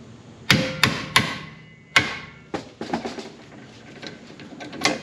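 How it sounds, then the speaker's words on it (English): A 1970s Buffalo manual impact driver is struck hard with a hammer to free a flathead lock nut on an old Volkswagen Caddy, with several sharp metallic blows close by, then a few lighter taps and a rattle. "This is an old Buffalo impact driver, something from the 70s"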